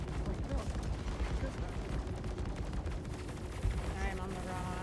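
Continuous heavy ballistic fire in Star Citizen, dense and rumbling with a steady barrage texture, while a voice talks over it.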